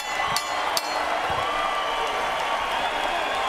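Boxing arena crowd after a fight, a steady dense roar of applause and cheering that fills the space, with a couple of sharp claps or bangs early on and a commentator's voice faint underneath.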